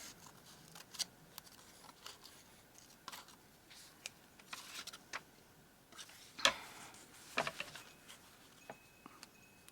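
Scissors snip through paper in a quiet papercrafting session, journal page work, giving a handful of short, sharp cuts scattered over otherwise hushed background.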